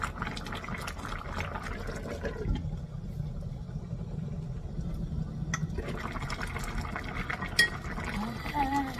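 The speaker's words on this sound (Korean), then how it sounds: "보글보글 맛있게 완성한 갈치조림" Spicy braised hairtail fish stew with green onion bubbling in a pot, a continuous soft simmer with small pops and gurgles, close and moderately quiet, with no talking.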